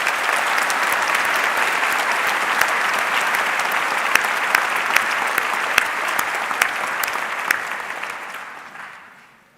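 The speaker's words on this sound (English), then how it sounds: "Please join me in another round of applause." Sustained applause from a large audience at an honors convocation, a dense steady clapping that holds for several seconds and then fades out.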